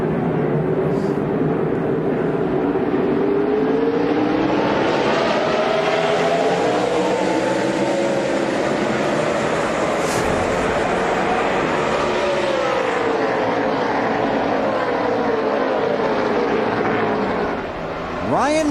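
NASCAR race cars roar down the backstretch at the 2005 UAW-GM Quality 500, a loud sustained engine drone with rising and falling pitch as cars pass, mixed with crowd noise and a commentator talking over it.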